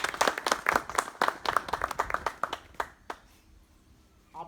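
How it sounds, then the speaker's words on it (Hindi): Applause from a village audience at a Hindi-language meeting on natural cow-based farming, dense rapid clapping for about three seconds before thinning to a few scattered claps and fading out. "तो ताली मार दीजिए।"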